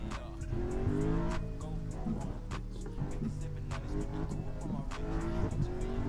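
A car engine roars at a steady high pitch like a NASCAR race car, loud and close throughout with possible tire squeal, under faint background voices.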